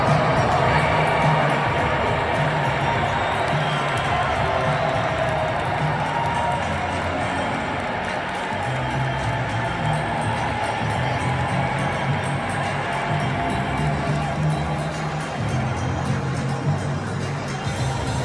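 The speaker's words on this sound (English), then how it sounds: "Unfortunately, people still booed." A crowd boos Donald Trump inside a sparsely filled Arthur Ashe Stadium, a steady loud wash of voices with music playing over it.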